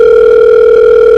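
A steady, loud telephone dial tone holds continuously for about a second before cutting off abruptly, heard alone without any voices.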